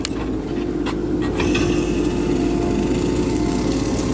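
A grass cutter mounted on a Kubota KX91-3 backhoe cuts grass with a loud, steady engine roar and a constant whirring hiss, with no talking.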